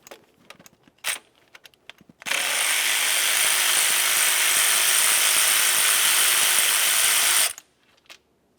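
A power ratchet tool loosens a starter bolt on a 2004-2015 Nissan Titan pickup, a few clicks first, then a loud steady buzzing whir for about five seconds, close up, ending with a click.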